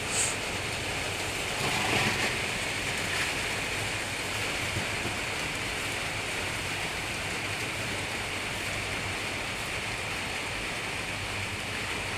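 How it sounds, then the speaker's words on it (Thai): Continuous rain falling, a steady broadband hiss with a slight swell near the start, moderately loud and unbroken, with no talking. "ฝนตก"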